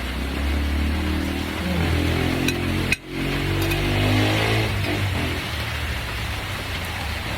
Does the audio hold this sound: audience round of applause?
no